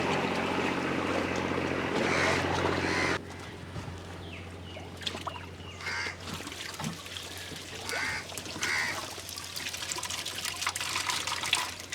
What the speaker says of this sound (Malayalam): നല്ല തിരമാല അടിക്കുന്നുണ്ട്